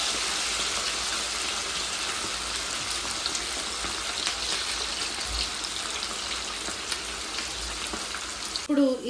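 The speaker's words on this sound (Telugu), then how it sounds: "ఇప్పుడు ఈ చికెన్ని ఆయిల్లో వేసుకుని ఫ్రై చేసుకుందాం." Marinated chicken pakodi fry in hot oil in a kadai, producing a steady, bright bubbling sizzle that runs evenly throughout, close and moderately loud, with a brief clatter at the end.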